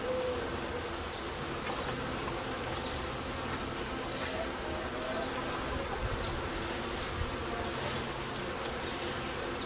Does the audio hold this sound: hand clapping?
no